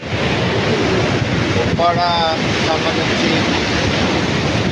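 Steady roar of storm-driven sea waves and wind crashing on the shore at Uppada, loud and continuous, with a brief tonal whine partway through.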